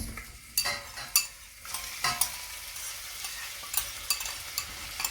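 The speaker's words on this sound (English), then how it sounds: "I'm going to chuck in my vegetables" Chopped onions, garlic and thyme hit two tablespoons of hot oil for a chicken and turkey curry, bursting into a loud broadband sizzle with sharp stirring scrapes and clatters recurring throughout, no voices.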